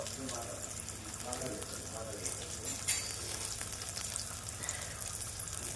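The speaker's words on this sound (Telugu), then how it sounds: "సో ఇలా ఆనియన్స్ పచ్చిమిర్చిలు వేసేసుకుందాము" Onions and green chillies fry in hot oil for wheat rava upma, a soft, steady sizzle with faint stirring scrapes, heard quietly and fairly close in a home kitchen.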